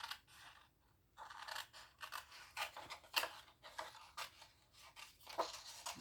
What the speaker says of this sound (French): On va aller découper la petite veste